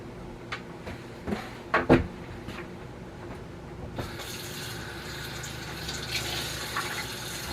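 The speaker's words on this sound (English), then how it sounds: "Pouring this in here." Liquid pours into a container in a home kitchen during nacho preparation, a steady wash of splashing that begins suddenly midway and runs to the end, preceded by a few clinks and knocks of handling.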